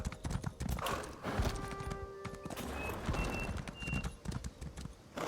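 Rhythmic clip-clop of horse hooves in Elder Scrolls Online over game sounds and music, with brief tonal chimes; no talking.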